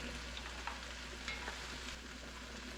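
Vegetables and diced ham with ham hock cooking in a pot, a quiet steady sizzle with faint stirring scrapes and no talk.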